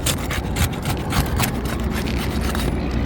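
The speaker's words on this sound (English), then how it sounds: "So I'm going to start by loosening the shingle." Rough scraping and rubbing of a roof shingle being worked loose from its sealed strip after the nails are out, a steady close-up grinding texture with repeated short strokes and no talk.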